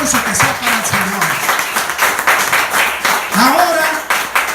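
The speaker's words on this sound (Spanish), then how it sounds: "Ese aplauso que sea para el Señor." A church congregation applauds steadily throughout, a dense, close wash of clapping with a voice speaking intermittently on top of it.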